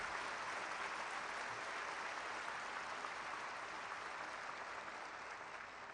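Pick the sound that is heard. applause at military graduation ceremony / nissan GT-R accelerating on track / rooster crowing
applause at military graduation ceremony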